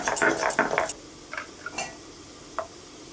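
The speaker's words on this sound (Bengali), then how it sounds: "প্রথমে বেটে নিচ্ছি আদা" Rough scraping and grinding strokes of a stone grinding slab against ginger, several quick passes close by, followed by a few faint knocks and taps.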